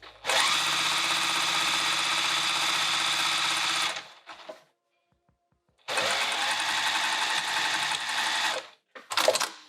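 A sewing machine stitches a small pocket on a piped bag in two loud, close, steady bursts with a silent pause between and a short rattle at the end.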